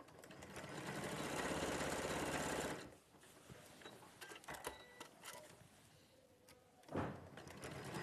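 A sewing machine runs steadily for under three seconds while stitching, then stops, leaving quiet handling clicks and a brief thump near the end.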